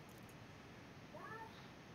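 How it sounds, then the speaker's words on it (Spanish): A cat meows once, faint and brief, over a steady background hiss. "¿Ese es mi gato?"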